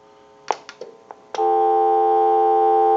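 A few short clicks and button beeps on a TA-954 military field telephone, then a steady, continuous dial tone that holds loud and unbroken to the end.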